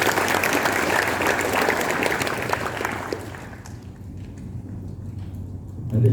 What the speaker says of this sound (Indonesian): Silakan titik tepuk tangan untuk Mbak Titi.